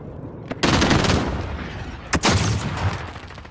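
Gunfire in Call of Duty Modern Warfare during a team deathmatch: two loud bursts of rapid shots, the first long and sustained, the second shorter after a brief pause, close and harsh with no talk.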